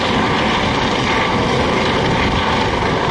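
A Coast Guard helicopter flies at an airshow at a military base open house, its engine and rotor producing a steady, loud, unbroken roar with no talk.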